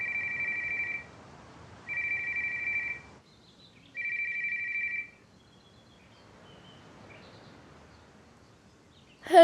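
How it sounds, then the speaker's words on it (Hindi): A telephone rings in three spaced bursts of electronic trilling, each about a second long, against a quiet indoor background, then the ringing stops and a brief click or pickup sound follows. "साशा, तुमने फोन क्यों नहीं उठाया मेरा?"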